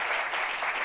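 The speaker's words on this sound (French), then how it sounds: "Applaudissements encore pour lui, s'il vous plaît." Audience applause fills a church meeting hall, a steady dense clapping from many hands heard close and continuous throughout the short burst, with no talk over it.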